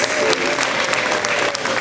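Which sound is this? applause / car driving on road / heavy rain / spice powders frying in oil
applause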